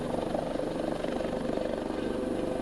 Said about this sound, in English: These helicopters are some of the best in the world